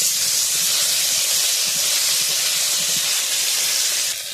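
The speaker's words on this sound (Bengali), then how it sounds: "একটু আদা বাটা দিয়ে দিলাম" Ginger paste hits a hot pan already holding salt and turmeric, giving a loud, steady, even hiss of sizzling that runs unbroken throughout, with no talk.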